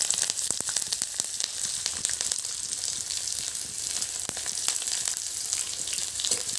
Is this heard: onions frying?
yes